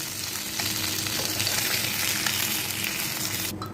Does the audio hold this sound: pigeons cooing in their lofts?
no